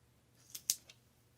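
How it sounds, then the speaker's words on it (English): Scissors snip through craft tape in a quick, close double cut, a faint clipping sound amid a quiet room during a Fourth of July tiered tray DIY project. "I'm going to cut my tape here."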